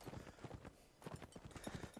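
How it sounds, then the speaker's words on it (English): Rapid clip-clop of a fast cavalry horse's hooves in the Mount and Blade Warband video game, a steady galloping beat of repeated thuds over ambient battle noise, moderately loud and without talk. "A very fast cavalry horse."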